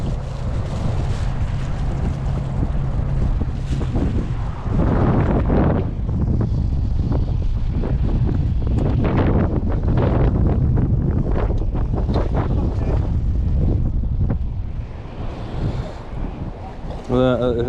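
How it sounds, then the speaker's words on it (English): Strong wind buffets the microphone outdoors at a boat ramp by the water, a constant roaring rumble with lapping waves and faint voices underneath. "and it's windy"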